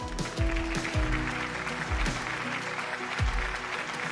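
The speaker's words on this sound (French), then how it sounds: "Et des applaudissements une nouvelle fois, s'il vous plaît, pour ce premier trophée" Applause from the audience at the Orquasi 2018 trophy awards evening rolls on steadily while music with a deep thumping beat plays underneath.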